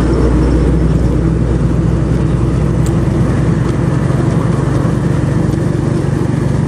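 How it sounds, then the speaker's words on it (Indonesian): A large car passes on the road beside a Suzuki GSX-R150 motorcycle, a loud steady engine and road rumble that holds constant throughout with no talking. "ini ada mobil gede"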